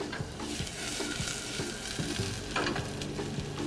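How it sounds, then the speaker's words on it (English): Slivered garlic and sliced shallots frying in olive oil in a pot over a medium-high flame, a dense steady sizzle with occasional stirring scrapes, close and continuous. "we're going to add about 2 tablespoons of olive oil to this pot over a medium-high flame"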